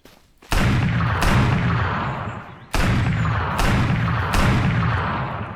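Hand cannon fired in the video game SurrounDead: four loud, booming shots, each with a long decaying tail, spaced a second or two apart and heard alone.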